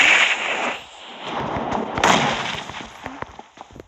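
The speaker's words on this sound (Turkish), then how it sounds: "Şuraya bomba atarsın ve canını güzelce basarsın şöyle" A thrown grenade explodes in an online shooter, heard as a loud burst followed by a ragged tail of crackling, snapping reports and debris-like clicks fading out, with no voices over it.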